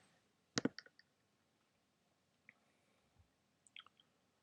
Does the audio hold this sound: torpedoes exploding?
no